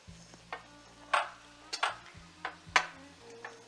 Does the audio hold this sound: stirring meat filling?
yes